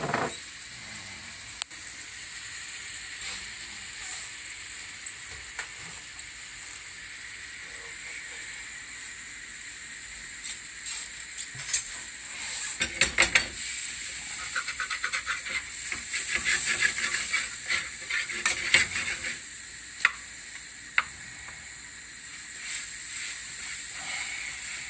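Butter and flour roux cooking in a pan, a steady soft hiss and sizzle that goes on throughout, with faint scraping and stirring clicks rising partway through. No one speaks.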